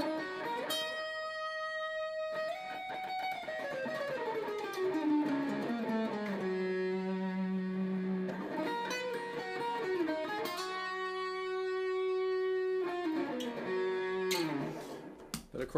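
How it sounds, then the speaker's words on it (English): Oscar Schmidt by Washburn L5-copy archtop guitar, 17 inches wide, played through heavy distortion: sustained, saturated notes and sliding bends ringing loud and steady, alone without talk. "Believe it or not, it gets a pretty good sound on distortion too."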